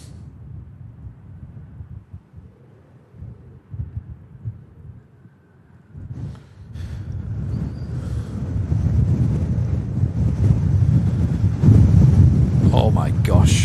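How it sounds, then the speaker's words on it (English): Strong storm winds gusting across Manchester Airport, a quiet rumbly first half giving way to a loud, sustained roaring buffet of wind on the microphone that builds toward the end. "wind do be blowing"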